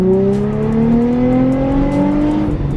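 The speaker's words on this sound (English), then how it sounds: "Now he's gonna go ahead and punch it." A Nissan 350Z pulls hard in second gear from roughly 3,000 rpm, its engine note climbing steadily and loudly close by for the whole stretch, with no voices.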